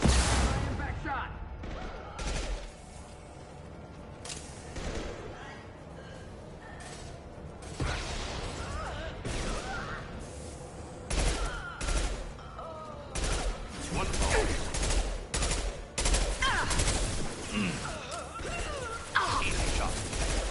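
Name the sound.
gunfire in the video game Mass Effect 2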